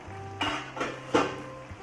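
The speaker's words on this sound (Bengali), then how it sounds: "1 মিনিট পর ঢাকনাটা তুলে দিলাম" A lid is lifted off a pot of chikni saag cooking on the stove, with three light metallic clanks and a softer knock at the end, close and quiet over a low hum.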